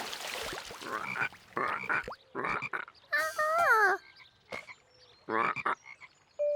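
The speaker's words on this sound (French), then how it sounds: "effrayés par les coassements des grenouilles." Frogs croak in a cartoon soundtrack: a string of close, raspy croaks in uneven bursts with short gaps, including one drawn-out warbling call in the middle, no voices.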